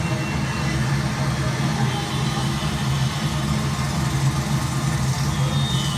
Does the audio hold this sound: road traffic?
yes